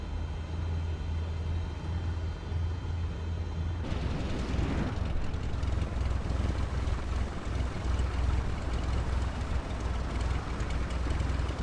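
A Cessna 172 propeller engine in a flight simulator game drones steadily at a low pitch, then swells louder and rougher partway through and holds that fuller roar to the end.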